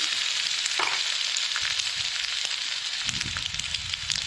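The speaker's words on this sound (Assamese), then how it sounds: "মছলাখিনি ভাজি ল'ম" Ginger-garlic spice paste fries in a pan with a close, crackling sizzle, broken by occasional stirring scrapes and soft clunks of the utensil against the pan.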